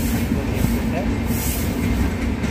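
Express train pulling into Penukonda railway station, a continuous low rumble of rolling coaches at close range with faint voices nearby.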